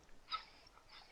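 A dying dog in the horror game Darkwood gives a faint, brief whimper, one soft high whine rising then trailing off into quiet breathy sound.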